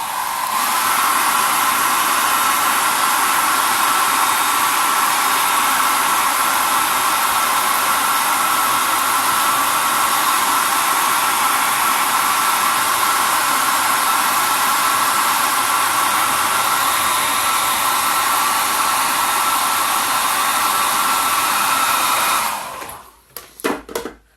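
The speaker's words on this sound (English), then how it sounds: "I'm just going to use my mum's old hairdryer to speed up the drying process." An old hair dryer blows loudly and steadily for over twenty seconds, a constant whooshing hum, then cuts off with a few brief knocks.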